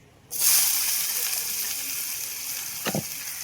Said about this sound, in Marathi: आता टाकून घेऊ आपण हा बारीक कापलेला कांदा.